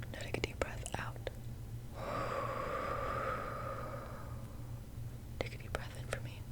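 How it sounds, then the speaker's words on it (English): A person exhales a long, slow deep breath during a whispered ASMR general medical check-up, a soft airy rush of about two seconds close to the microphone, with faint whispering and small clicks before and after. "Now take a deep breath out."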